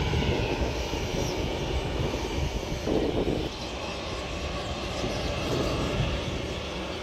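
Lion Air ATR turboprop landing at Sultan Hasanuddin airport in Makassar, a steady broad engine roar heard from a distance, fairly loud and continuous with no talk over it.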